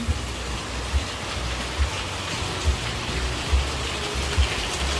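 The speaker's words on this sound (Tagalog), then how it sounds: "Alas 4 na ng hapon, pero napakalakas pa din ng ulan." Heavy rain falls in a steady, dense wash in the late afternoon, with soft periodic low thumps beneath the constant downpour and no voices.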